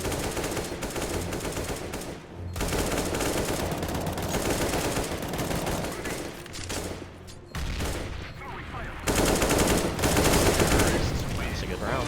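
Counter-Strike match on the Mirage map with dense, continuous bursts of rifle gunfire, loud and close, with brief lulls between volleys and a heavier barrage toward the end.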